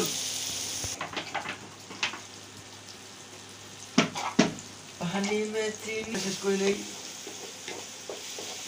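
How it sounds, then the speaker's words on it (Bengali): Onion, ginger and garlic being sautéed for mutton curry, a hissing fry with spoon scrapes and clatters, while a voice speaks briefly partway through. "তিনি আগে মাংসর জন্য যে পেঁয়াজ আদা রসুন দেওয়া হয়েছে সেটা কষাতেই ব্যস্ত"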